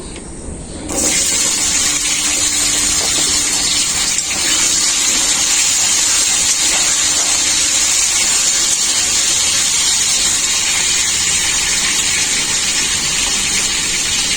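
Pieces of taro are dropped into hot oil left over from frying potatoes, setting off a sudden, loud, steady sizzle that holds without pause for over ten seconds, with no voices.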